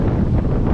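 Strong wind of about 28 knots blows across a sailboat at sea amid big waves, a loud, steady low roar and rumble of gusts buffeting close to the microphone, with no voices.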